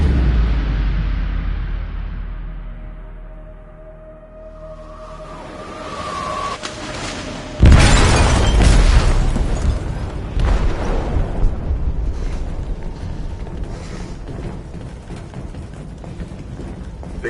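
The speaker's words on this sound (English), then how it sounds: "They detonated an explosive in the hold. The ship is sinking, sir." An explosive goes off in a ship's hold in Detroit: Become Human, a sudden loud boom midway followed by a long, rumbling, crackling aftermath of debris and churning noise.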